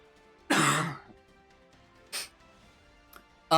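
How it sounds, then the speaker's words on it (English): A single person coughing close by: one sharp, loud throat-clearing cough, then a smaller cough about a second and a half later and a brief third burst near the end, with quiet room tone between. "I looked away to cough briefly."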